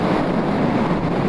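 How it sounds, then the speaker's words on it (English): Steady wind gusting across the microphone on top of Santa Fe Dam, a continuous loud rumbling buffet with no voices. "Windy up here."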